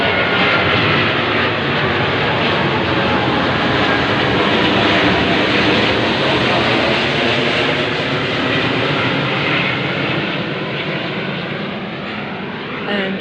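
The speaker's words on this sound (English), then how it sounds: "the military plane right over my head as I speak" Military plane flying low right overhead above a quiet dead-end street near construction, a loud broad engine roar that stays steady and dominant throughout, fading slightly at the end, with no talk.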